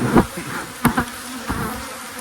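Honey bees buzzing around an open beehive during a Demaree swarm-control inspection, a steady insect drone with a few louder passes close by and sharp bumps of hive handling.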